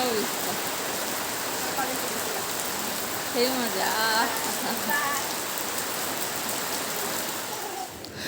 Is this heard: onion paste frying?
no